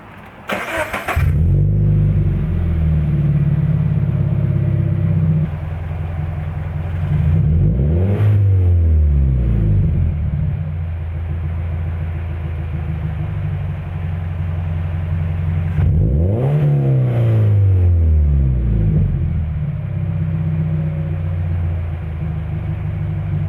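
Car with an Invidia N1 exhaust and the silencer removed, idling loudly then revved twice in sharp rising-and-falling bursts, close and alone with no talk.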